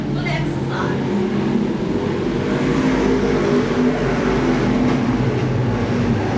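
Sportsman race cars roaring around Seekonk Speedway during a consolation race, a loud, continuous engine drone that holds steady for the whole stretch with no break.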